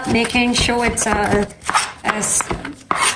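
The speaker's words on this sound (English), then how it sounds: "So I'm just cutting our palm sugar." A knife chops through palm sugar on a board while preparing a Thai beef salad, with quick, close, repeated chopping strikes under a person talking.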